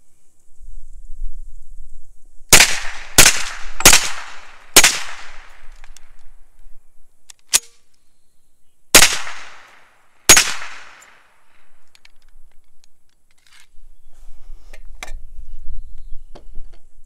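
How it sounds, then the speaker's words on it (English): Suppressed rifle shots through a suppressor at an outdoor range, seven sharp cracks, four in quick succession, then one faint, then two spaced apart, loud and close, with quiet ambience between. "we're going to throw a few rounds through it to kind of put the gases in the suppressor"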